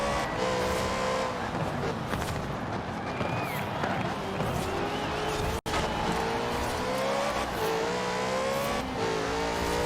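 A 2015 Lexus RC F in Forza Horizon 4 roars at full throttle through third gear, its engine note droning steadily and shifting in pitch, loud and continuous, with tire noise and a brief dropout midway.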